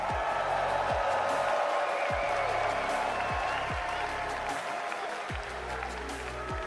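A large crowd at a Rocket League esports championship watch party applauds and cheers steadily, a dense wash of clapping and roaring that holds at a constant level throughout.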